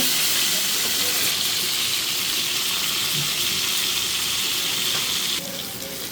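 Mixed vegetables sautéing in oil in a pan for a Bengali dal-and-vegetable dish, a steady broadband sizzle and hiss running continuously, close and fairly loud, with a slight drop near the end.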